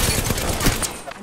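Enemy gunfire striking the player in a shooter video game, a rapid, continuous volley of close, loud shots and impacts crackling without pause for about a second.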